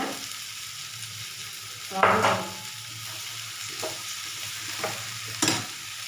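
Chopped okra sizzles steadily in a hot pan for a lady's finger podimas, with a few louder scraping stirs of a spoon through the pieces, close up and with no talking.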